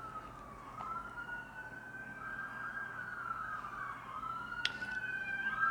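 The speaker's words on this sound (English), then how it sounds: "I live by a hospital, guys, so can't avoid the sirens." A wailing emergency vehicle siren near a hospital sweeps up and down in long glides, moderately distant, over a steady background hum of traffic.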